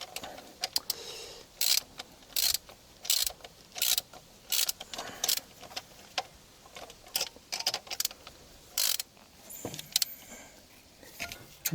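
A ratchet clicks in short repeated bursts while tightening the timing belt tensioner bolt on a BMW E30 with the M20 engine, close and crisp with brief pauses between strokes.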